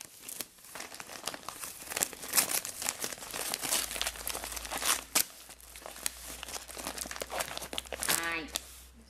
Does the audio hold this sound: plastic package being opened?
yes